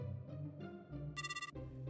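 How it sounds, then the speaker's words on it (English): A phone ringtone plays a bright, melodic sequence of rising tones, loud and close, with no voices over it. "your phone has been ringing non-stop since earlier"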